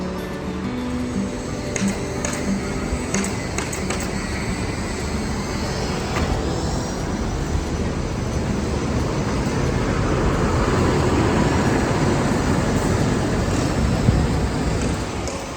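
A Sugeng Rahayu intercity bus travels at speed, heard from inside as a continuous loud rumble of engine and road noise that swells slightly toward the end, with a few faint clicks.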